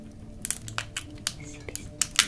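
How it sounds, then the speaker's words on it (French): Walnuts are cracked open by hand, a quick series of close, sharp cracking and crunching snaps at an uneven pace over a quiet background. "nous allons donner quelques noix. Si j'arrive à les ouvrir sans vraiment me blesser."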